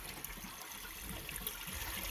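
Coolant drains out steadily during a cooling-system flush on a 2000 Ford Excursion with a V10, a continuous close trickling and splashing of liquid that holds an even level throughout.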